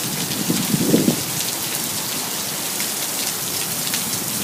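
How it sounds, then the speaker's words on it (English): Heavy rain pours down outside a workplace during a downpour, a loud, continuous close-up hiss of drops hitting surfaces with no voices over it. "As you can hear in the background, it's raining really hard right now."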